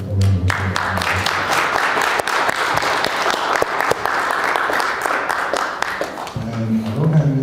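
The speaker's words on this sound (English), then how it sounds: "please do the sister a round of applause" A crowd applauds with dense, sustained clapping for several seconds, with brief speech or music heard at the start and end.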